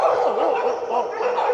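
A phone ringtone plays a dog barking, a series of close, loud, yappy barks with a slightly whining tone repeating across the moment.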